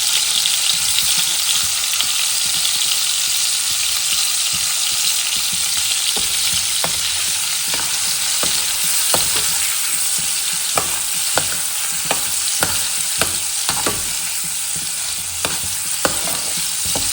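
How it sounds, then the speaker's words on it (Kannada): Paneer shallow-frying in oil in a pan gives a close, constant sizzle punctuated by repeated clicks and scrapes of stirring, with no voices. "ಈಗ ನಾನು ಪನ್ನೀರ್ ಫ್ರೈ ಮಾಡ್ಕೊಳ್ತಾ ಇದ್ದೀನಿ"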